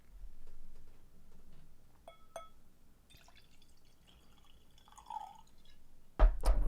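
Red wine, a 2013 Golan Heights Winery Yarden, is poured from a recorked bottle into a glass: scattered drips and light glassy clicks, then a short gurgling pour and a louder close burst at the end.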